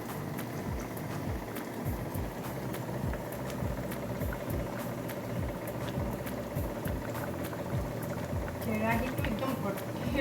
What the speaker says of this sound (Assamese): দেখিছেনে কিমান ধুনীয়াকৈ উতল আহিছে।